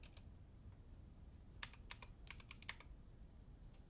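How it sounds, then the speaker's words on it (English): Quick bursts of keystrokes on a computer keyboard, a few isolated taps and then a short flurry of clicks, over a steady background hum with no talking. "Am I typing it in?"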